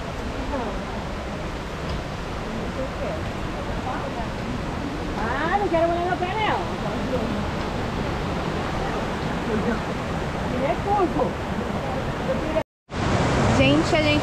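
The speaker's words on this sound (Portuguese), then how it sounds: "a cachoeira lá no fundo" A waterfall on a jungle trail in Ubatuba, São Paulo, rushes in a continuous broad roar in the background while people talk over it, ending in a short break followed by a louder burst.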